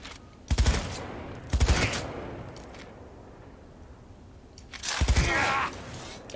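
Cyberpunk 2077 gunfire as Maelstrom gang enemies are shot in the head: three loud, close bursts of rapid automatic fire, each lasting under a second, separated by quieter background.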